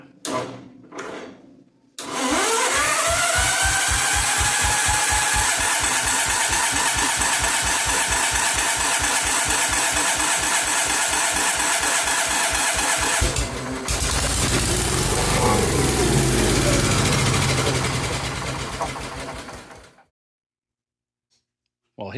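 After a couple of cranks, an engine catches and settles into a steady, loud idle for about eighteen seconds before shutting off abruptly, with no talk over it.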